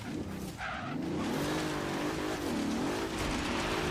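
A Bentley Continental GT set up as a rally build in Forza Horizon 3 revs hard through the gears, its engine note climbing and dipping continuously at close range, loud and steady throughout.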